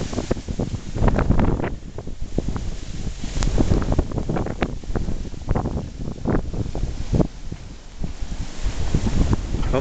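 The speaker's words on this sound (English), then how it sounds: "There's the wind gusts." Blizzard wind gusts batter the microphone in uneven surges and buffeting bursts, loud and close, with faint talk in the background.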